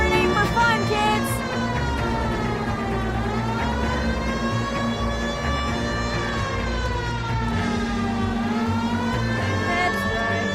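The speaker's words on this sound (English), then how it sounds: "This siren ain't for fun, kids!" A wailing emergency vehicle siren in a video game sweeps up and down in long, loud cycles, with a steady low rumble underneath throughout.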